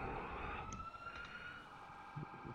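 Fire engine siren in the FDNY firefighting simulation EmergeNYC, faint and distant, wailing briefly over low rumbling game ambience with no talk.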